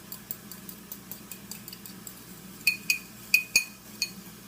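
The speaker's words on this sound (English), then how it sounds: "I'm going to get my fork and I'm going to whisk this up so that it's well combined" A fork whisks a dressing in a small bowl, giving light metallic ticks against the dish, faint and irregular at first, then a few sharper, louder clinks near the end, with no talking.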